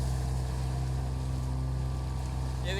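A motorboat cruises across a lake in Putrajaya, Malaysia, its engine a steady low drone under rushing water and wind noise, with a brief splash or shriek near the end.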